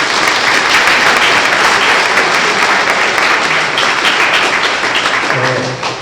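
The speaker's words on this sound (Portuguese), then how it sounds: "Uma salva de palmas para ele, por favor." A tech-talk audience gives the speaker loud, sustained applause, a thick continuous roar of clapping that holds steady before easing slightly at the very end.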